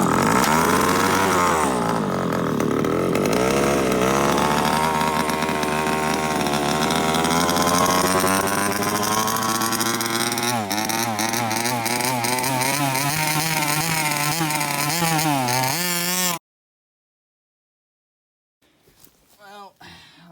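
The small petrol engine of an HPI Baja 5B RC car buzzes loudly and close at steady high revs, its pitch rising and falling with throttle blips before it cuts out abruptly, leaving silence and a few faint handling noises.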